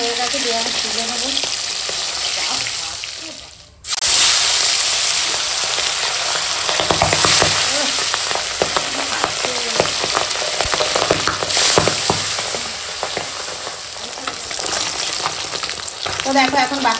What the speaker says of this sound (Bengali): বাকি মাছগুলো ভাজা হয়ে গেছে, দিয়ে এখন তুলে নেবো। বাপরে যা ফাটছে।